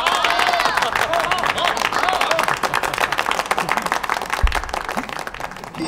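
Applause from an audience at a banquet-style gathering welcoming a guest of honour to the stage, a dense steady patter of clapping with crowd murmur throughout, fairly close and loud.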